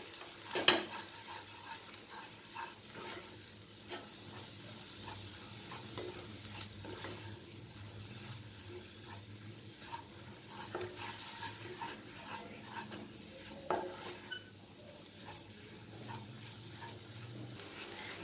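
Onion and gram flour (besan) roast in a pan for arbi sabzi, a faint steady sizzle with scattered scraping stirs of a spoon, quiet and close, with no talking.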